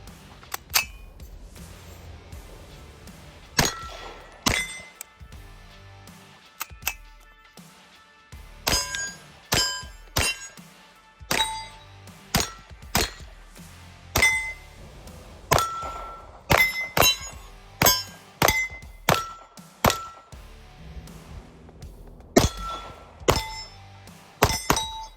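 Metallic clicks, clanks and thunks of a Vortex Defender red dot sight being mounted and slid along a Picatinny rail, a long irregular series of sharp close knocks with short pauses in between.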